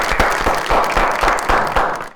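Studio audience applause on a talk show, loud rhythmic group clapping in regular bursts that carries on for about two seconds, with no talk over it.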